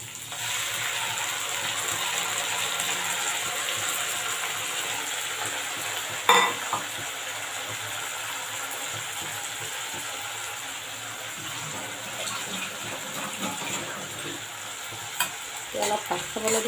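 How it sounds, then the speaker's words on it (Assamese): Tomatoes fry in an oily pan with a constant hissing sizzle, punctuated by a few sharp clinks and scrapes of a stirring utensil, and no voices. "কেঁচা গোন্ধ নাজালৈকে ভাজিম বিলাহী।"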